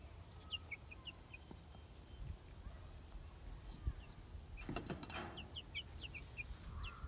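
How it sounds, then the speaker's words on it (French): Chickens and small chicks in a coop cluck and peep, with high chirps scattered through the clip and a brief burst of rustling or flapping midway, over a faint background hum. "Des poussins qui me disent bonjour."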